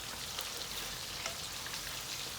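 Pinakbet with string beans simmers in a covered pan, giving off a steady, soft, even hiss and bubbling with no breaks.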